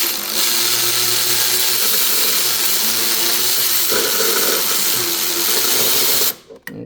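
A ratchet loosens an alternator bolt on a Nissan Altima 2.5, heard as a steady, loud mechanical whirring and clicking that runs for several seconds and then stops abruptly.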